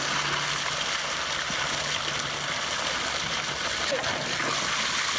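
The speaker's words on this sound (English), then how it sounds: "you can see the water spray out over here" Water sprays out steadily as a constant broadband hiss with a splashing wash, close and fairly loud the whole time, a faint low hum running underneath.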